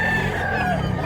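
A rooster crowing at a market where gamefowl are sold, a single clear drawn-out crow, fairly loud and close, over background bustle.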